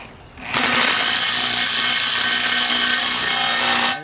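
Steady loud grinding-scraping noise lasting several seconds as a bearing is driven in for a VW Beetle axle being fitted to a go-kart, starting abruptly and cutting off just as suddenly, with no talk.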